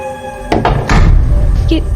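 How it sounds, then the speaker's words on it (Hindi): A door swings shut on its own in a dark horror story, a dull thud landing mid-clip and followed by a lingering low rumble, with soft voiced sounds around it. "ये दरवाजा कैसे बंद हो गया? वो भी अपने आप?"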